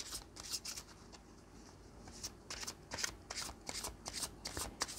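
A deck of tarot cards being shuffled, with steady rapid riffling and rubbing strokes at close range, quiet and continuous, with no speech.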